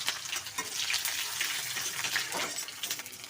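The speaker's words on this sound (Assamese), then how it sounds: "পিঁয়াজখিনি অলপ লাল হোৱালৈকে ভাজিব লাগিব" Chopped onions fry in a pan with green chillies and garlic for an Assamese fish curry, giving a steady close hiss and crackle with a few soft scrapes, no voices.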